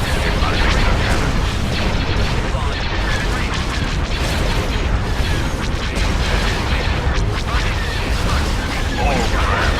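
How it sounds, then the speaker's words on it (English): Space combat in a Star Wars strategy video game, laser cannon fire and explosions booming in a dense, continuous barrage, with radio chatter voices speaking over the battle noise. "Open fire on those laser cannons."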